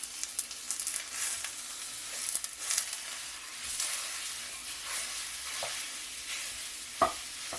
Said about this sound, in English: our cast iron has preheated with our ghee. So now we're going to take this pound of chorizo. We're going to throw that in there.